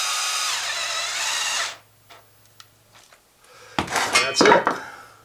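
A power drill drives screws to mount a PEX compressed air drop, one sustained whirring run up close, then a pause with small knocks and a burst of rattling clatter as the screw seats.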